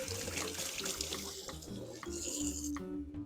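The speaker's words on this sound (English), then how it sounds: "Let me wash my hands real quick." Water from a kitchen sink tap runs steadily while hands are washed during chowder cooking, a continuous close splashing stream lasting a few seconds with no talk.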